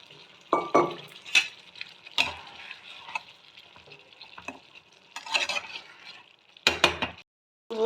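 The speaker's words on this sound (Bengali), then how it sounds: "সব কিছু সেদ্ধ করা রয়েছে এটা একটু মাখা মাখা করবো এবার আমি ডিমগুলো দিয়ে দিলাম" Duck eggs cooked with boiled ingredients are stirred in a pan, with uneven bursts of scraping and light sizzling, several loud spatula strokes and short quiet gaps between them. No one speaks.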